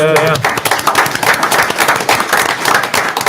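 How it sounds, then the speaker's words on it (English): Applause fills a town council meeting, a brief burst of many hands clapping in a dense, even patter, close and moderately loud, with a voice audible at the very start. "Give them a round of applause."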